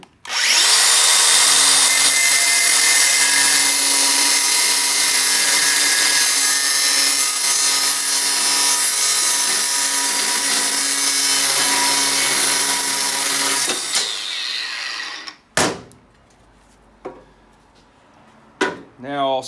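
Loud, sustained whine of a power cutting wheel grinding through a metal frame piece for about fourteen seconds, then it stops and a few clanks and brief scrapes follow.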